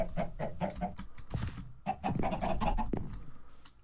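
Chicken clucking in a video game: a rapid series of repeated clucks, close and fairly loud, continuing in bursts with brief pauses.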